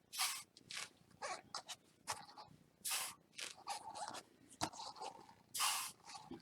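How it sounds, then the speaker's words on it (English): Several short bursts of WD-40 silicone aerosol spray hiss one after another, close by and fairly quiet, with brief pauses between them. "I'm going to spray these first with the WD-40 silicone spray"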